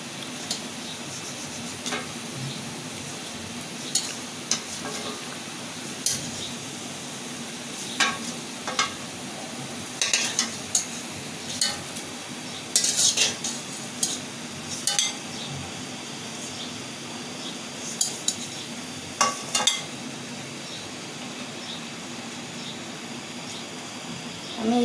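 Food frying in oil in a pan, a faint continuous sizzle underneath with scattered utensil clinks and stirring taps close by.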